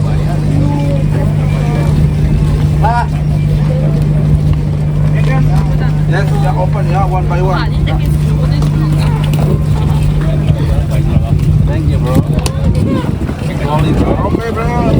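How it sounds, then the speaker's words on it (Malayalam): Steady low engine drone of a boat heading back to Bali, with wind buffeting and voices talking over it. "ഈ ബോട്ട് ഇപ്പോൾ തിരിച്ച് ബാലിയിലേക്ക് പോകാനുള്ള ബോട്ടാണ്"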